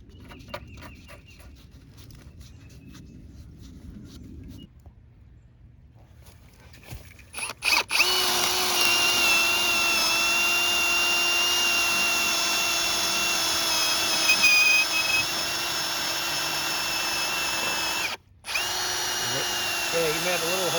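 A power drill whines loudly and steadily for several seconds after a quieter stretch, cutting out briefly once before resuming.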